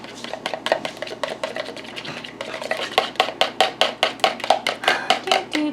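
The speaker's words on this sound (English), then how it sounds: "I'll give this one last stir." Berry freezer jam of blackberries and raspberries is stirred in a bowl, a spoon scraping and clinking in a quickening run of rhythmic strokes, close and clear, with no voices.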